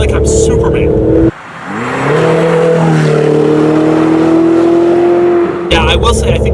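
A Ferrari 488 Spider engine revs loudly, its pitch sweeping up and holding a steady high drone for several seconds before a sharp cut, heard from the cabin with a voice nearby at the edges.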